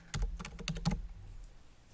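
A rapid burst of about eight computer keyboard keystrokes, close and crisp, clustered in under a second, then quiet room tone.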